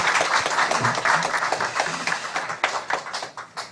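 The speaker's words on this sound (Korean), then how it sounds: "오늘도 우리 성가대 다시 한번 격려의 박수 한번 하겠습니다" A Sunday worship congregation claps for the church choir, a lively burst of hand clapping that gradually thins into scattered, uneven claps.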